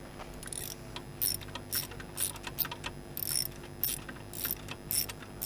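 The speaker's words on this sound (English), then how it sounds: "So I'm undoing the inside of the pulley to loosen this to help it lower down." A ratchet works on a pulley bolt of a 1992 Nissan Terrano during a belt replacement, giving repeated bursts of quick clicking with short pauses in between, close and moderately loud.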